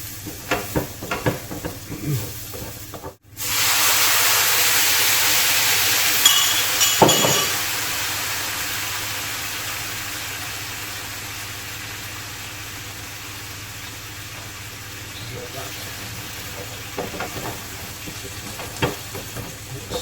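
Eggplant slices and garlic are stirred in a hot pan for aubergine parmigiana, with a loud sizzle that swells after a brief pause and then slowly fades. Occasional utensil knocks and scrapes sound close by.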